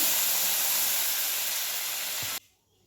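A glass of cold water poured into hot spice masala in a pan raises a loud, sustained sizzling hiss, then cuts off abruptly, leaving only quiet bubbling.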